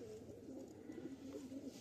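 Pigeons cooing softly on a hot 31-degree day, a faint, low, rolling coo drifting over steady background hiss without any speech.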